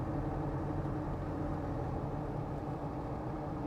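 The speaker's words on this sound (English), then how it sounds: "So nice driving Defender for sure" Restored Helderburg Land Rover Defender D110 with automatic transmission driving, a steady low engine and road rumble inside the cabin, continuous and even throughout.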